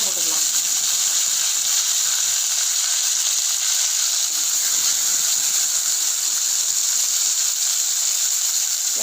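Small shallots frying in oil with garlic in a pan for curry leaf kuzhambu, a steady, even sizzle with constant bright hiss running unbroken throughout.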